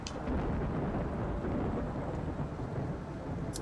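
Rain and thunder in the Farming Simulator 17 video game, a dense steady hiss of rainfall with low rumbling underneath, continuous throughout with no talking.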